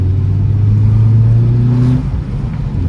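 A Hyundai Solaris RB car accelerates with a loud, steady engine drone that climbs in pitch and then eases off near the end, close up and without speech.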